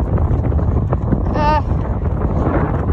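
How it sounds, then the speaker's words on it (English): Steady wind buffets the microphone of a 12-year-old rider cycling into a headwind, a constant low rumble filling the short stretch with a brief whistling tone partway through. "I've got a headwind"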